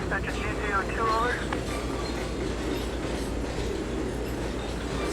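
Grain train rolling along in the Trainz railroad game, a steady rumble of wheels on rails. Early on, a voice speaks over it, and a brief wavering tone sounds near the start.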